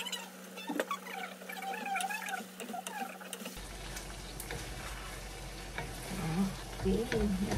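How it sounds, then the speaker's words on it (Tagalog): Adobo with vinegar bubbles and sizzles in a pan, a continuous busy crackle that grows louder partway through, with faint voices in the background. "kumukulo na yung ating adobo"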